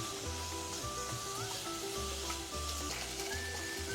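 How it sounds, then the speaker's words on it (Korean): Fish cake stir-frying in a pan with soy sauce and garlic, a steady close sizzle with stirring scrapes throughout, some low background hum and no talking. "이렇게 볶아주세요."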